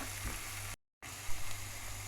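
Chopped herbs sizzle in hot vegetable oil in a pan, a steady, dense frying hiss that drops out for a moment and then resumes.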